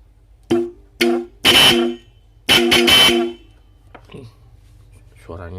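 A Bosch Supertone 12V car horn with a Mercedes-style tone is tested in separate blasts: two short toots, a longer honk, then one sustained blare, all loud and close with quiet gaps between.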